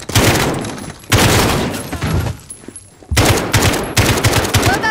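Rapid automatic gunfire in a Call of Duty: Modern Warfare campaign ambush, with loud sustained bursts broken by short pauses and several sharp single reports between them.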